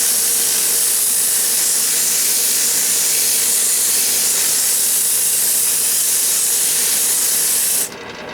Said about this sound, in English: turn the lathe on and wrap the sandpaper around